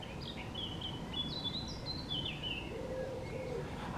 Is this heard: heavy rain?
no